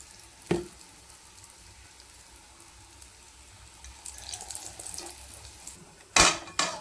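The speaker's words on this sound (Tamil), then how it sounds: "இப்போ அடுப்பில் எண்ணெய் காஞ்சிருச்சு. இப்போ நம்ம வடையை எடுத்து தட்டி போட்டுக்கலாம்." Urad dal vadai dropped into hot oil at home, a steady soft sizzle of frying with a couple of sharp splashes and clinks from the pan, no talking over it.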